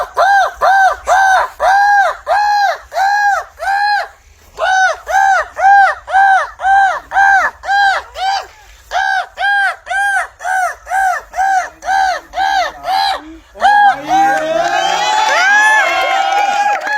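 A man imitates crow calls to summon crows, giving a long series of loud, rhythmic caw-like bursts, then a noisier stretch of mixed voices and cries near the end.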